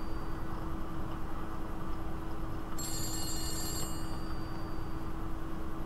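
A telephone rings in an office in the video game The Beast Inside, one bright, trilling burst lasting about a second over a steady low background hum.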